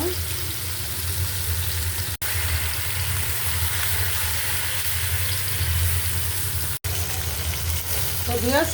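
Fish pieces fry in hot oil, giving a loud, continuous crackling sizzle that holds steady close up, with two brief cutouts along the way.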